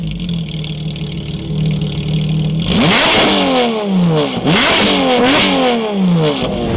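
A Porsche 992 GT3 RS on a dyno, its engine settling from a steady idle into a string of loud, sharp revs that climb and fall repeatedly, heard up close.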